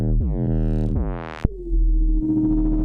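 Layered synthesized bass sounds from Ableton: a buzzy, harmonic-rich bass sweeps down and then slides upward, cuts off sharply, and gives way to a sustained deep sub tone that fills the rest of the clip.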